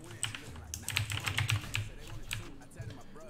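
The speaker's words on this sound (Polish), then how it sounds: "Słychać moją klawiaturę jakoś na streamie?" Rapid clicking of a computer keyboard during a gaming stream, with irregular bursts of keystrokes close to the microphone and a voice talking faintly underneath.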